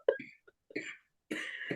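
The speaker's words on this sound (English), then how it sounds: "Don't cough again." A person coughs close to the microphone in several short, harsh bursts separated by brief pauses, the last a longer throaty fit.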